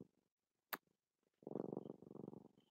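A Siamese cat purrs close and soft, a rhythmic rumbling pulse that starts after a brief sharp click and quiet stretch and then continues steadily.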